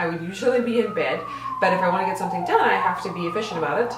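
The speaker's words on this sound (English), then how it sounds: "Sorry about the siren." A wailing emergency siren on a New York street at night, its pitch sweeping up and down in the background, running steadily beneath someone talking close to the microphone.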